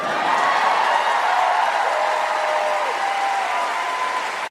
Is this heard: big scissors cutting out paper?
no